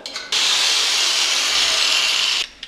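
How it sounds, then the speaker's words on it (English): A power drill with a 1/8-inch bit bores a hole about 1¼ inches deep into wood while a Murphy bed is built, one loud, steady whine lasting about two seconds that starts and stops abruptly, with quiet room tone before and after. "I need to use 1/8 drill bit, drill 1¼ inches deep, 2 holes in each section"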